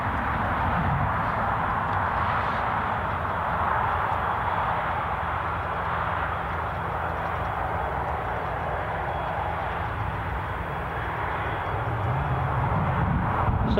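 Jet aircraft at Newcastle International Airport produce a loud, continuous engine roar that holds steady throughout, with no voices over it.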